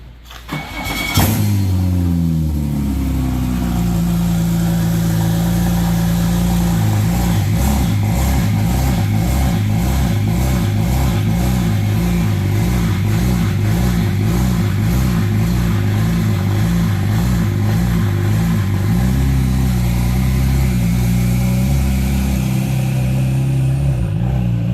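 Ecodiesel pickup truck engine hauling a car on a trailer, a steady loud drone with a start and rising revs at the beginning, then a sustained rumble with rhythmic pulsing throughout.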